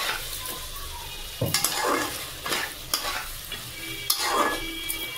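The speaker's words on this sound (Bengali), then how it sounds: "নেড়ে চেড়ে নেব" Chicken being stirred in a hot pan with a little chili powder, several scraping strokes of a spoon against the pan over a soft continuous sizzle, close and clear with no talking.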